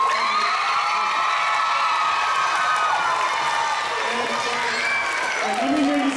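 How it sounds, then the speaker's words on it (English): A school audience applauds and cheers for jazz drummer Winard Harper at DLEACS, with steady, dense clapping running throughout and shouts and whoops rising above it. "one more round of applause for Mr. Harper."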